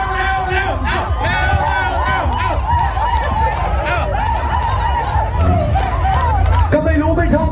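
Spectators at Pathum Thani Speedway race track in Thailand cheering and shouting in a loud, continuous crowd roar, voices rising and falling with an announcer's talk over the noise.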